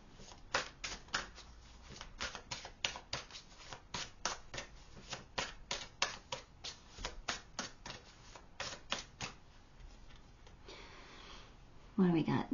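Tarot cards being shuffled and flipped, a long run of quick crisp riffling snaps in a steady rhythm, close and fairly clear, easing off toward the end.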